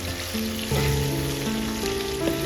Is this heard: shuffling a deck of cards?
no